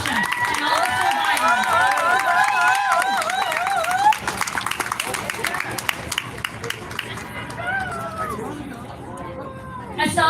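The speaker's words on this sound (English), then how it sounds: "Let's do another round of applause for Natasha" Outdoor gun-violence awareness rally crowd claps and cheers after a speaker's call, a dense wash of applause mixed with chatter and a voice over a loudspeaker, fading into murmuring as talk continues.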